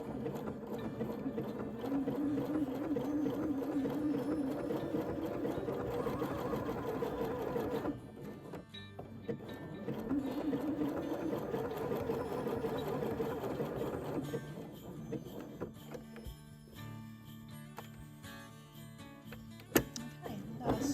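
A sewing machine stitches an appliqué letter onto a Christmas jumper in a steady, close whir that runs in long bursts and briefly pauses and changes pace partway through.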